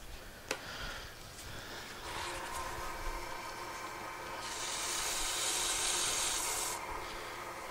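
Sandpaper rubs against a wooden pen blank spinning on a mandrel lathe, a steady hiss that brightens midway, starting with one sharp tap, no talking.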